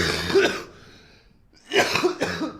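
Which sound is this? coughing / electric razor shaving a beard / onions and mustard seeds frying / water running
coughing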